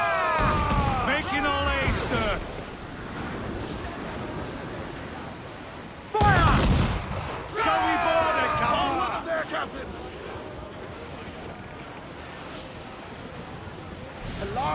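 Ship cannons firing in a naval battle in Assassin's Creed IV Black Flag, two heavy booming broadband blasts several seconds apart over wind, sea and a voice shouting.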